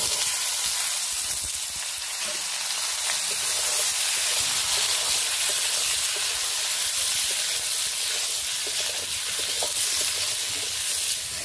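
Potatoes and tomatoes hit a hot frying pan of lightly fried onion and chopped garlic, giving a loud, steady, close sizzle and hiss that holds without a break and has no talking over it.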